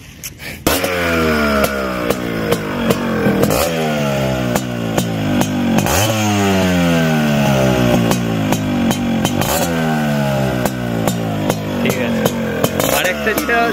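Fully modified Yamaha RX 135 five-speed motorcycle engine running loud and close, a rough two-stroke idle with repeated sharp throttle blips and revs rising and falling, continuous throughout.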